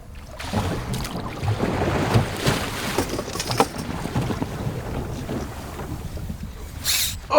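A fishing boat rocks through a passing wake at sea while out for sea bass, with steady wash and wind buffeting the microphone, water sloshing continuously against the hull.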